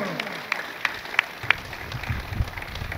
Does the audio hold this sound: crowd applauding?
yes